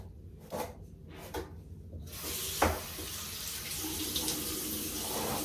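Tap water runs over a hairbrush held under it, first a few faint rubbing strokes and then a steady, close faucet rush that fills the rest, with no voices.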